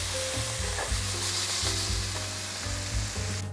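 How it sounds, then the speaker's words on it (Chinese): Napa cabbage stir-frying in a pan with a steady, close sizzle and the scrape of a spatula stirring through it, with no voices. "现在已经炒到味道融合了。"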